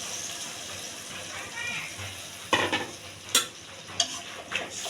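Figs sauté in a pan with added coconut milk, giving a soft simmering sizzle under stirring. Several sharp scrapes and knocks of the utensil against the pan come in the second half.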